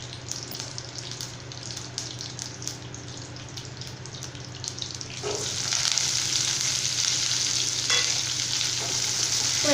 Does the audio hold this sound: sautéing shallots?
yes